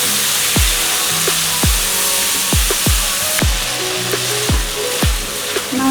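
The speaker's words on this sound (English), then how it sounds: "I'm going to saute the masala until the oil comes out" Masala frying in oil for Bengali prawn malaikari, a steady sizzle running throughout with repeated sharp clinks and scrapes of a utensil stirring the pan at a loose, uneven rhythm, close and fairly loud.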